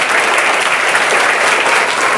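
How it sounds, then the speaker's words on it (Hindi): Loud, dense applause from a crowd at a birthday celebration in Aurangabad, honoring Savitribai Phule, sustained and even across the whole stretch with no voices on top. "तो जोरदार तालियां पहले हम बजाएंगे"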